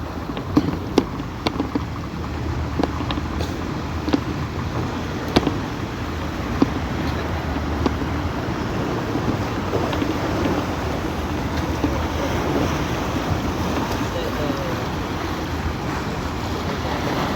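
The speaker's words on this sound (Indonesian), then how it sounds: "Ombaknya gede guys ya, ombaknya tinggi banget ya" Big, high ocean waves at the seashore in the western monsoon season, a continuous loud broadband roar of surf with wind noise and a few small clicks, no voices.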